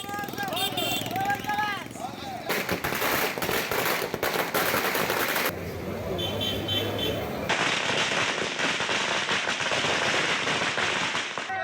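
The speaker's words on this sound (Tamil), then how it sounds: "பட்டாசுகள் வெடித்து உற்சாக கொண்டாட்டம்" Rapid crackling bursts of firecrackers going off in a noisy crowd celebrating the RCB cricket team in Bengaluru, with loud popping clusters and cheering voices throughout.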